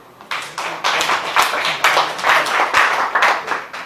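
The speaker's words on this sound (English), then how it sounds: "I think we give one more applause to my dear Tamilarasan" An audience claps for a presenter after a talk, a short burst of uneven, fairly close hand claps that builds quickly and holds steady.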